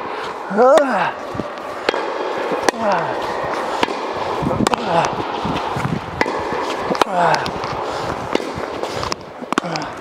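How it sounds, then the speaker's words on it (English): Tennis volleys struck with a Babolat Pure Drive 2021 racquet, a series of sharp, hollow ball impacts spaced a second or two apart, fairly close, with a player talking between hits. "Now it's time for the volleys."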